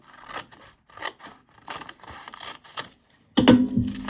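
Scissors cut close up through paper in a series of crisp snips and scrapes with short pauses between them, then a louder rustle and handling noise comes at the end.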